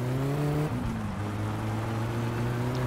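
Car engine in the My Summer Car video game, a steady droning hum that drops in pitch once, as if shifting gear, then holds a constant throttle.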